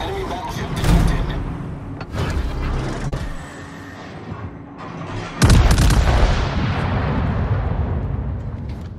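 Heavy battleship gun salvos in the naval game World of Warships, with several deep booming blasts and rolling rumbles, including a loud volley midway, under occasional game voice lines.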